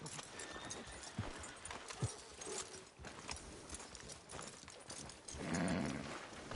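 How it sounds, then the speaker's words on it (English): Steady clip-clop of horse hooves at a walking pace in a video game, fairly close, with a brief snort or whinny near the end. "Are you gonna mount that new horse of yours or not?"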